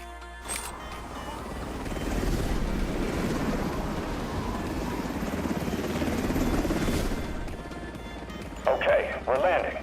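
A helicopter lands in the video game Delta Force, its loud rotor roar swelling and holding steady before cutting out, followed by a few sharp clanks near the end.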